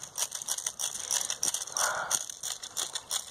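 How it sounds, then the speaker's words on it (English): Ratcheting clicks from winding an airsoft AK-47 magazine to feed BBs, a quick steady run of mechanical clicks close by with no talk. "he's got to wind the mag up to add more BBs into the chamber"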